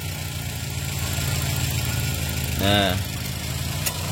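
A 2012 Toyota Avanza G with manual transmission idling smoothly with a steady low rumble, close up, as someone speaks briefly over it near the end.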